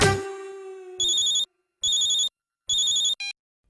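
Three short bursts of electronic telephone ringing come at even intervals after a fading tone, followed by a brief final chirp, clear and isolated in a quiet domestic drama scene.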